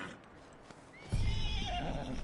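A horse in the video game Red Dead Redemption 2 whinnies loudly with a rising, quavering call, followed by a low rumble and faint hoof shuffling, with no talking.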